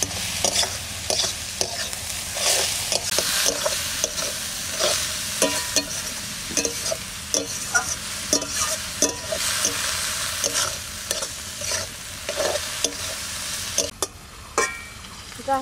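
Mountain greens from Sikkim are stir-fried in a pan, giving a continuous sizzle broken by repeated scraping and stirring strokes at an uneven rhythm, close and fairly loud, with no talking.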